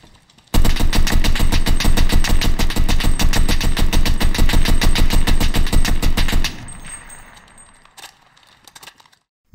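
An assault weapon in a video game fires one long, loud full-automatic burst of about six seconds, evenly spaced rapid shots, then stops, leaving a metallic clink and quiet mechanical noises.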